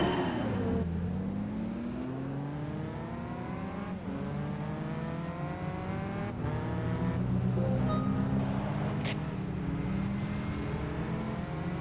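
A race car engine in Gran Turismo 5 climbs through the gears with repeated rising revs and quick shifts, loud and continuous, with no voices.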